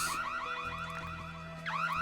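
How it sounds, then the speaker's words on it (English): A car alarm going off in a video game: a looping, warbling electronic siren that sweeps up and down steadily, clear and continuous throughout. "that'll set off the alarm"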